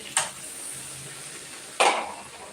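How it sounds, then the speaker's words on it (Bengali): Chicken dropped into spice paste frying in oil in a pan: two clattering metallic knocks of utensil against the pan about a second and a half apart, over a faint steady sizzle. "তো মশলায় দেখো তেল ছেড়ে এসেছে এরপর আমি চিকেনটা দিয়ে দেবো"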